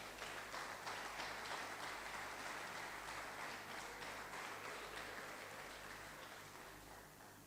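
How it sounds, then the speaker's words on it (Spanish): Church congregation applauding during a sermon, a soft, distant wash of clapping that blurs into a hiss-like texture over a low steady hum, fading slightly toward the end. "Denle un aplauso al que vive."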